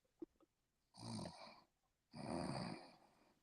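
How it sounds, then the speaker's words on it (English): A person snores twice, each time a long, loud, rasping breath of about a second, separated by a short quiet pause. A few faint clicks come before the snores. "Somebody's snoring."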